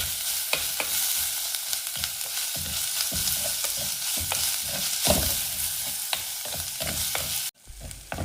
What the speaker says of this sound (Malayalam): ചെറിയ ഉള്ളിയും ഇഞ്ചിയും കൂടെ ചേർക്കണം. ഒന്ന് വഴന്നു വരണം.